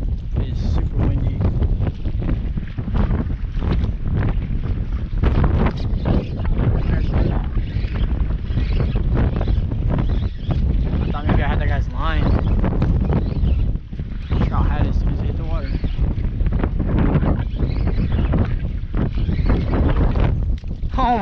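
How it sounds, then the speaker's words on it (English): Strong wind roars across the microphone at the Corpus Christi spillway, a loud, continuous buffeting rush that swamps the scene, with faint voices underneath. "It's super windy."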